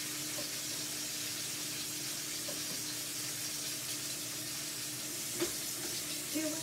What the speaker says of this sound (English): I'm actually throwing in my garlic now